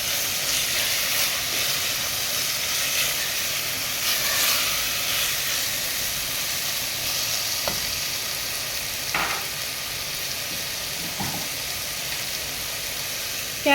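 Masala frying in oil for a restaurant-style veg pulav, sizzling steadily and continuously close up, with occasional stirring scrapes and pops in the pan.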